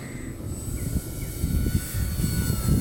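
A cardboard and foam RC plane flying in to land, its small electric motor a steady, close whirring drone with slight shifts in pitch as it approaches.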